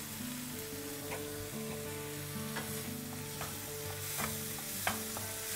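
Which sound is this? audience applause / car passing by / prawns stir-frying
prawns stir-frying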